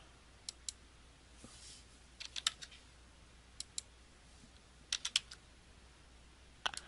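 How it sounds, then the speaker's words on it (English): Scattered bursts of quiet keyboard typing, a few quick key clicks at a time, separated by short pauses in a quiet room. "So I'm just typing in the number."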